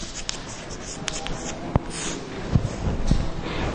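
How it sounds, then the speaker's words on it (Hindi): Someone writes on a board during a chemistry lesson, producing steady scratchy strokes with a few sharper taps over a continuous hiss of room noise. "इसको फास्फेट लिखेंगे।"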